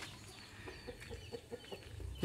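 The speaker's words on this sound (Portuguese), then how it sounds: "Aqui tem muita galinha." Free-roaming capoeira chickens at a rural Brazilian spot that roasts mutton give off a series of soft, short clucks over a low background hum, fairly distant and quiet.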